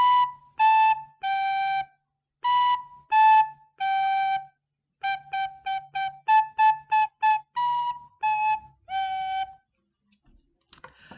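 Hot Cross Buns played on a recorder as a beginner music lesson: clean, breathy single notes in short separated phrases, three-note groups and quick repeated tones, clear and close with no talking.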